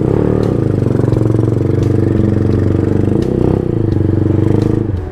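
Several motorcycles run close by on a mountain ride, their engines making a loud, continuous low rumble with rattling and clatter, and no break in the sound.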